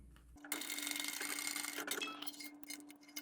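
A sewing machine stitches across the tab of a small clear boxy bag, running in a steady, close mechanical buzz for about three seconds with no talking.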